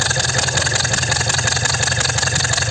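Toyota Camry 50 hybrid engine turned over by its hybrid electric motor with all ignition coils removed, a loud, steady, rhythmic cranking drone pulsing evenly, close up and without speech.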